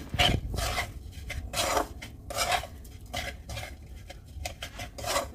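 A utensil stirs and scrapes sweet gujiya filling in a pan, making repeated rhythmic rasping strokes of varying loudness, close by and with no talking.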